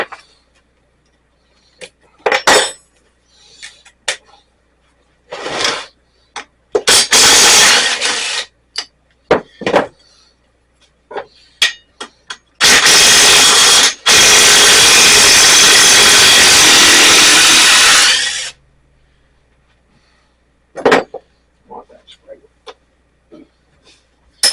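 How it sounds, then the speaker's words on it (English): A power grinder cuts through a corroded, rusted pin on a Toro snowblower in loud repeated bursts, one long sustained grind in the middle, with short tool starts and gaps around it. "I'm going to grind this thing right off."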